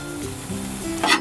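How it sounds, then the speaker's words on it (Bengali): Shrimp fry in a pan with salt, turmeric and Maggi masala, giving a soft continuous sizzle, and a brief scraping stir near the end. "খুব ভালো করে আমি আরও কিছুক্ষণ ভেজে নেব।"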